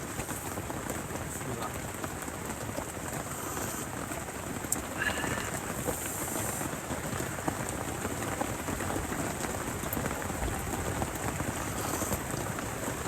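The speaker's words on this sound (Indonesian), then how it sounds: "kita baru mulai start camping lagi langsung dihantam hujan" Heavy rain pours steadily onto a forest campsite at night, a dense, constant hiss of drops on surfaces that fills the scene without a break.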